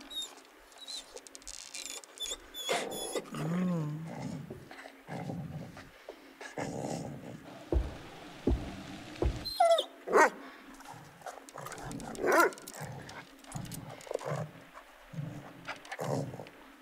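A dog growls and barks in the horror video game The Devil in Me, rough bursts and snarls scattered over several seconds amid game effects and footsteps, moderately close, with no talk.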